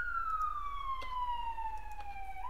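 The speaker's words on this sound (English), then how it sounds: "Oh, the sirens." A police car siren wails faintly outside, a single steady tone gliding slowly downward as the car passes at a distance; there is no talking.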